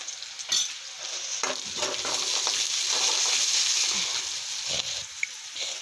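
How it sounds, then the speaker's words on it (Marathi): Chopped onion fries with cumin seeds in hot oil for a potato and brinjal curry, a loud, close, continuous hiss punctuated by a few stirring knocks and scrapes, with no voices. "जिरा घातल्यावर कांदा घालू। कांदा छान शिजू देऊ।"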